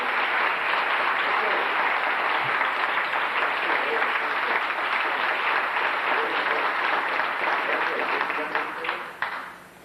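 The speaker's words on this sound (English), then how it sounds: "let's have a big round of applause for her" An audience at a 1990 Baha'i conference gives a hoop dancer a long, dense round of applause that holds steady for nearly ten seconds before tapering off, with voices mixed in.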